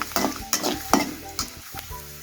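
Fennel seeds, coriander and garlic stirred in a hot pan, with a steady close sizzle broken by four or five sharp scraping strokes of the spoon at irregular intervals.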